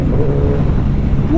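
A loud, close exhaust on a 2024 Suzuki Hayabusa 25th Anniversary motorcycle rumbles with a deep, steady drone, engine note holding firm throughout.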